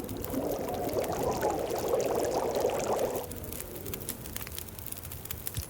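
Liquid pouring and bubbling while a tin of coffee cooks in The Long Dark, a steady watery rush for about three seconds that fades into a softer, thinner trickle.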